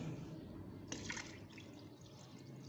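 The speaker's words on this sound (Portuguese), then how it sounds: "Vou colocar o bianco aqui na água" Bianco additive poured into water for a cement mix, a faint liquid splash and trickle starting suddenly and settling into a quiet pouring sound, recorded close but at low level.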